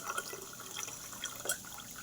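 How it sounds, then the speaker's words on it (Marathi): Hot coffee is poured into a steel glass, a soft trickling liquid stream with faint drips, quiet and close throughout. "आणि हे माझ्या स्टीलच्या गिलासात पोर करतो."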